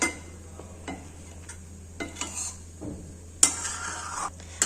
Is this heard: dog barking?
no